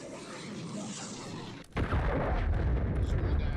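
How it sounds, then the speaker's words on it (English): A cruise missile strike in the video game Warzone lands as a loud, sudden explosion after a stretch of dense rumbling noise, followed by a sustained heavy roar and crackle. "friendly cruise missile deployed."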